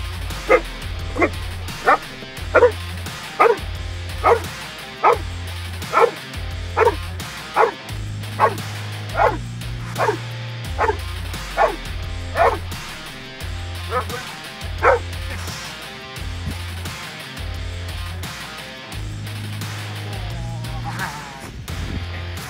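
A working dog barks repeatedly on command during bark-and-hold protection training, sharp evenly spaced barks close by over a steady low background hum, with occasional yips.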